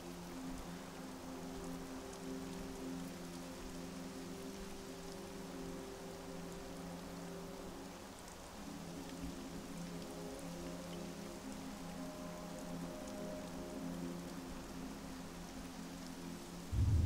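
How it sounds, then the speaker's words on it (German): Steady rain falls throughout a scene in the video game Castlevania: Lords of Shadow, a dense even hiss with a low droning ambience beneath, continuous and unbroken for the whole stretch with no voices. "Regen."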